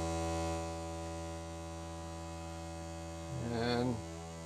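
The variable output of a Serge modular synthesizer's timbral oscillator holds a steady, buzzing harmonic drone, then briefly warbles and swells louder near the end before settling back.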